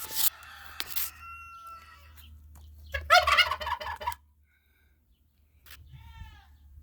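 A turkey lets out a loud, close, rattling gobble lasting about a second. Shorter fowl calls come before it, and after a silent gap a fainter warbling call follows.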